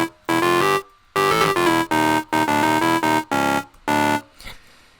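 Distorted jump up drum and bass synth bass plays in short, punchy repeated stabs with gaps between them, loud and harmonically rich, ending in a brief fading tail.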